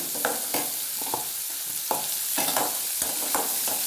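Steady frying sizzle of onions sautéing in oil fills the background while a utensil scrapes and stirs through a pan in irregular strokes.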